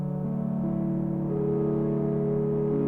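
A Vital software synth holds a sustained droning tone with random pitch automation and the fine-tune pitch turned down, stacked harmonics shifting slightly as it plays alone at steady loudness.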